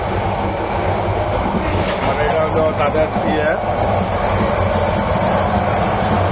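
Inside a moving Bangladesh Railway compartment on the Dhaka to Chittagong run, a steady, loud rumble of wheels and carriage noise fills the space while someone talks over it throughout.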